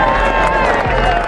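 Crowd murmur and scattered cheering at the November 1988 rollout of the Northrop B-2 stealth bomber from its hangar, a loud, steady, dense wash of many voices throughout.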